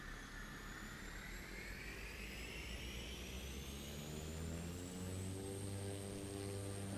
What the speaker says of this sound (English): and you'll hear the engine